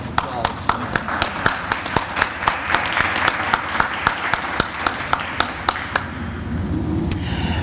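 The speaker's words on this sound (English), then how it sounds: "And we'll give you all a round of applause." Applause at a check presentation for a charity drive, with sharp individual claps in a regular rhythm standing out from a softer wash of clapping.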